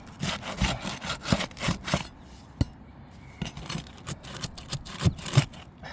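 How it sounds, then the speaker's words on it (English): Shingle mat tearing during a repair assessment, a series of close rough scraping and ripping strokes in an uneven rhythm, with short sharp cracks among them. "I can hear the mat tearing right there."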